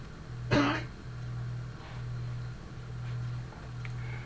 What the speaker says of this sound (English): Wait a minute, I got a cough again.